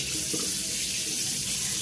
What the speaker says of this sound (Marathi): मस्त गुणगुण पाणी घेणार आहे आता तोंडावरती